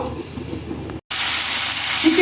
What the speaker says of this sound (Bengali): এই কড়াইতে তেল দিয়ে দিয়েছি এবার চিকেনটা ভেজে নেবো